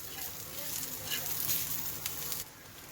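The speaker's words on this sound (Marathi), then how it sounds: "भाजी मसाला व्यवस्थित भाजून घ्यायचा आहे" Coconut and masala roasting in a pan over a medium gas flame, a soft steady sizzle with faint stirring scrapes, close but quiet.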